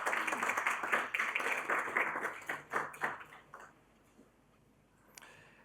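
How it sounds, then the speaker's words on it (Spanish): Applause from the audience at a Spanish-language seminar on gender equity in mining, clapping steadily for about three seconds, then thinning and fading to near silence, with one brief sharp tap near the end. "Vamos a darle un fuerte aplauso también, por favor."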